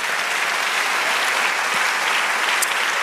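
A church congregation applauding, steady dense clapping that stays even and loud throughout.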